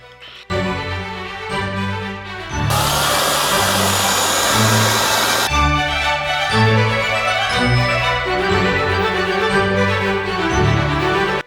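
A Sequoia cordless mini chainsaw, a compact battery saw, cuts through wood, its motor whine rising to a loud steady buzz for a few seconds mid-clip between quieter running stretches, close by with no talking.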